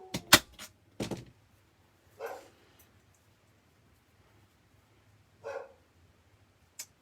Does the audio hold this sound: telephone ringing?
no